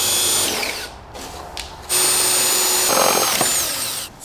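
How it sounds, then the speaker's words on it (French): A power drill with a metal bit bores holes into a terrace door frame, whining in loud bursts with short pauses between them and a brief higher grinding near the end. "Préperce les trous dans le cadre avec un forêt à métaux."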